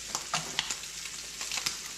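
Shrimp sear in a hot pan for a creamy shrimp scampi, crackling and sizzling close by in short bursts, with a few faint stirring or turning sounds.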